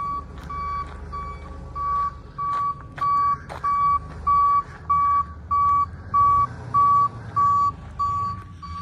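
A four-wheel-drive rollback wrecker truck with a small bed reverses, its loud, steady beeps pulsing evenly over a low engine rumble.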